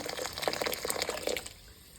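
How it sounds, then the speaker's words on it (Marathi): Hot water is poured into a kadhai of warm sesame laddu mixture, a short splashing, bubbling pour close by that fades after about a second and a half. "त्याच्यामध्ये गरम पाणी टाकायचं"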